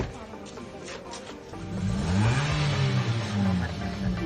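A Toyota Vios engine starts and revs after a charge installation, the mid-pitched engine note climbing and holding in a loud, close rev, with faint people talking nearby before it.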